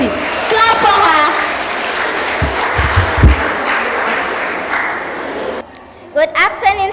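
An audience in a hall applauds for a girl contestant at a kids' speaking competition in Gambia, with sustained clapping that fades out and gives way to speech near the end.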